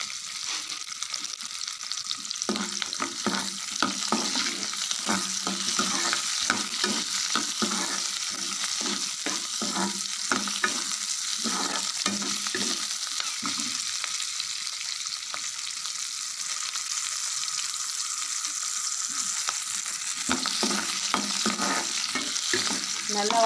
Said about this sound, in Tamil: நல்லா வதங்கி வரட்டும்.